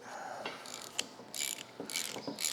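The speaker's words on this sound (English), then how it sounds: "Fortunately, it looks like this Pitman arm puller is going to do the trick." A Pitman arm puller works on the steering box of an Allis Chalmers C tractor, giving short metallic ratcheting clicks and scraping tool sounds, close and fairly quiet, in irregular bursts.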